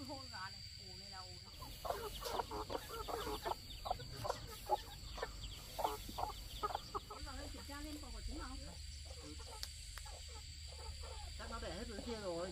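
Chickens cluck on a rain-damp farm in short, repeated calls, fairly close, while people talk nearby.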